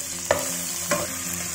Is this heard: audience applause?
no